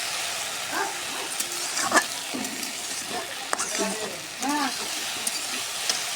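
Chicken skin bhuna fries slowly in a covered pan with no water, giving a steady, soft sizzle broken by faint clinks of stirring, and a dog barks a few times in the background.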